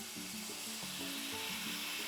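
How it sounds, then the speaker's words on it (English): Wine poured into a hot pan with artichokes, sizzling and spattering. A steady, close hiss carries light crackles and stirring scrapes, with no talking. "first we're going to put in our wine, and it's going to spatter up."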